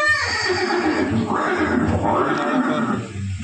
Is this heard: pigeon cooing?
no